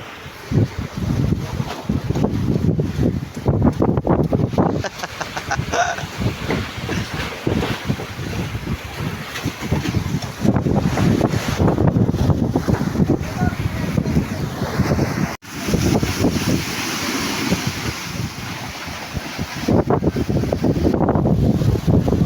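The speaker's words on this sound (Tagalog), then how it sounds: "malakas pa rin ang hangin, habagat." Strong southwest monsoon wind buffets and roars across the microphone in gusts at sea near a fish-aggregating raft, with open water and a boat's motion audible underneath.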